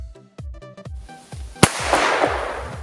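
A small toy pistol fires a single tiny cartridge, giving one sharp crack followed by a fading hiss over faint background tones.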